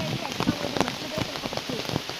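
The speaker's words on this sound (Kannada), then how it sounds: "ಮಳೆ ಹಿಂಗೆ ಬಂದರೆ ಹೆಂಗೆ" Rain falling steadily during a walk up to Yana, a dense hiss of drops on surfaces with scattered louder splashes, fairly close and continuous with no talking.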